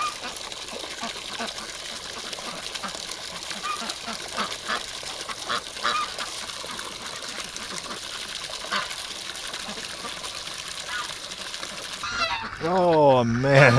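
Ducks in a winter pen keep up a busy, close chorus of quacks and honks, which bursts into louder, rapid honking near the end.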